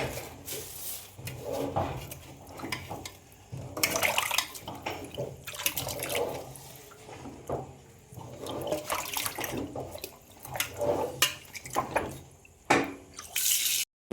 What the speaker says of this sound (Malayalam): അപ്പം ഇതൊന്ന് നമുക്കൊന്ന് കഴുകി വൃത്തിയാക്കിയെടുക്കാവേ.